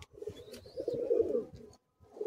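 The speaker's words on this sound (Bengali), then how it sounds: "দেখুন পায়রাটি" A pigeon at a pigeon sale coos softly and close by in a short rolling burst, then a brief pause and another coo begins.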